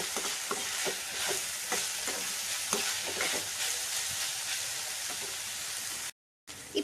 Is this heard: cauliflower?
yes